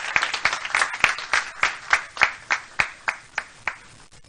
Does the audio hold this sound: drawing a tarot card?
no